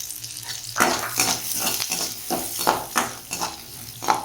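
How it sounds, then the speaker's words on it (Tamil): Ginger, garlic, green chili, bay leaf, cardamom and cinnamon sauté in a pan with a steady sizzle, while a spatula stirs and scrapes in a run of sharp, regular strokes close by. "வதக்கிக்கோங்க"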